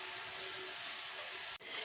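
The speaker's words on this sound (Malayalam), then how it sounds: "ഇത് ആവി വരുന്ന കുക്കറിൻ്റെ പുറത്താണ് ഞാൻ വെക്കുന്നത്." Steam hisses steadily from a pressure cooker used to steam carrot puttu, a loud, continuous close-up rush with a faint tonal whistle, briefly dropping out just before the end.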